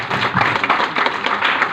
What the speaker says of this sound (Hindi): एक बार ये आई केयर के लिए जोरदार ताली